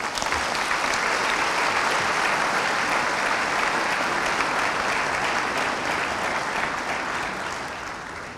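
A United Methodist church congregation applauding in a temple during a Sunday service, sustained loud clapping that holds steady for several seconds and then begins to taper off at the end.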